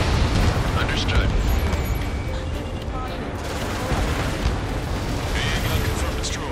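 Roaring blast and sustained rumble as an AA gun is destroyed in Ace Combat 7 aerial combat, loud and continuous under jet engine noise and radio voices.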